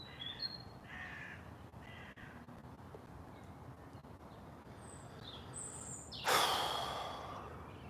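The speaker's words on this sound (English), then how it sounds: "Fucking birds, really. I like you guys, but not now." Crows caw repeatedly outdoors at moderate distance, several harsh calls spread across the scene, followed by a loud close breath or sigh from a person nearby.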